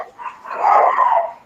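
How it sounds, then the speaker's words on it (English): Dogs at home break into barking, a close, loud burst of overlapping barks and yelps that swells and holds for about a second before easing off. "my dogs start."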